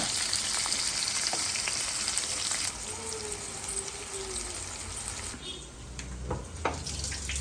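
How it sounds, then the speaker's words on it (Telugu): Onions and tomatoes frying with cashews in a hot pan give a steady, close sizzle that softens slightly partway through and continues evenly to the end. "ఇదిగో ఇప్పుడు ఉల్లిపాయలు టమాటాలు కూడా వేసేస్తుంది"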